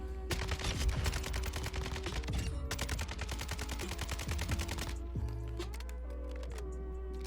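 Rapid automatic assault rifle fire in Call of Duty: Warzone, a fast, even stream of shots that runs for several seconds, breaks briefly and resumes, then stops over steady game background noise.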